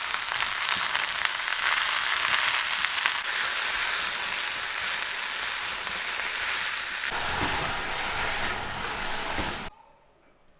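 Zucchini with curry leaves cooking in a pan, a loud, steady hiss and sizzle that holds for several seconds, shifts briefly, then cuts off near the end.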